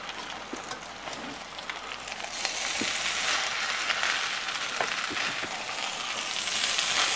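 Spicy egg fried rice sizzles in a pan while being stirred, a close, dense crackling fry that grows louder and fuller partway through, with small scraping knocks.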